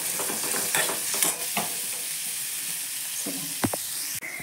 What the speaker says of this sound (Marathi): ते कांदा एकदम गुलाबी रंगावरती आता भाजून घेऊया आपण